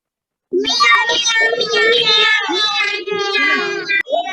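Children's voices imitate a cat's meow in a long run of overlapping, drawn-out mewing calls, loud and close, beginning after a brief silence and ending abruptly.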